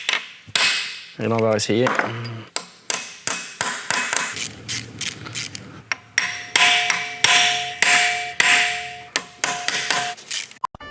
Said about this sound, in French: Donc là, même en ayant tapé sur nos vis, les têtes se déforment. Donc je vais y mettre un petit coup de burin.